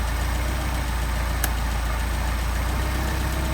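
A Mercedes 190SL engine running on Solex carburetors idles steadily with an even, rhythmic low rumble, close and continuous, with no voices.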